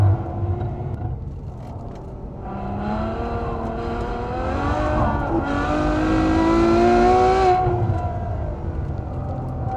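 A Ferrari F12 Berlinetta's engine drones steadily while the car slides sideways, its pitch rising and falling as the revs climb and ease, close and loud with no talking.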